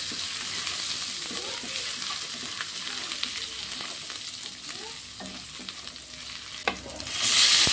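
Ginger, green chili and garlic sizzle in hot oil for a Bengali dish, a dense, steady crackle close by with light stirring scrapes and a louder burst near the end; no one talks.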